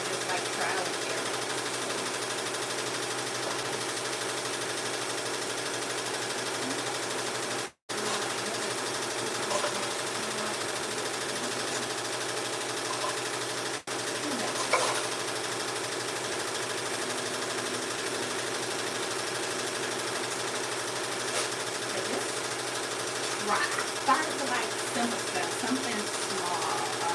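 A sewing machine stitching around fabric edges for boxy bags, a steady, unbroken mechanical drone for almost half a minute that halts briefly twice.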